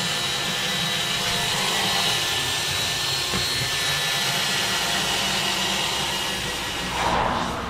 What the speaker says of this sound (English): It's pretty much every time I come out he's drilling a hole somewhere.